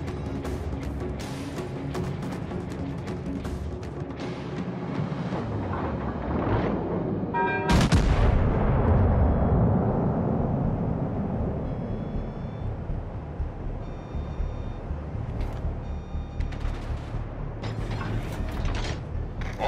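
Naval gunfire against an enemy warship in World of Warships: Legends: a sharp, heavy cannon blast rolls off into a long rumbling decay, amid continuous battle noise and scattered clanks in a busy game mix without speech.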